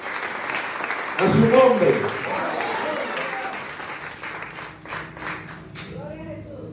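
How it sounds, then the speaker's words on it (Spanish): A church congregation claps together in steady applause while a preacher's voice speaks over it, the clapping continuing under the talk. "Dale un aplauso al Señor."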